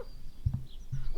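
Farm dogs bark as they chase a fox in a French audio story, with two short, gruff bark bursts about half a second apart over a low background hum.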